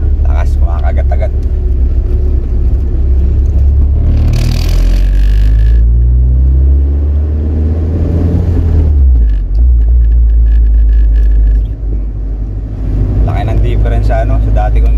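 Car on a road test after a Wilwood DynaPro big brake kit and slotted 276mm rotor upgrade, a loud close rumble rising and falling as it accelerates and slows, with talk over the engine noise.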